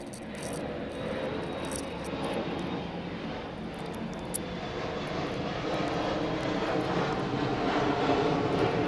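An airplane passing overhead, a steady broadband engine roar that holds throughout and swells slightly toward the end, heard outdoors with no talk.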